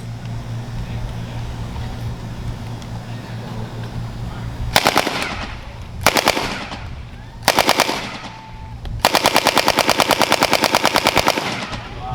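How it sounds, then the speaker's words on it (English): Short bursts from an automatic weapon at a military museum ammunition demonstration: three brief bursts and then a longer rapid volley, loud and sharp over low background rumble. "Automatic weapons, you would not just hold down that trigger, you would fire and burst."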